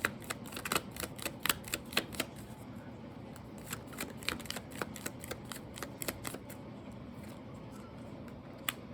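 Tarot cards are shuffled and drawn in quick bursts of crisp flicks and snaps near the microphone, with irregular clusters and brief pauses between them.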